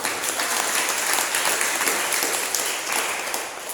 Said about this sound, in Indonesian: Haleluya, tepuk tangan untuk Tuhan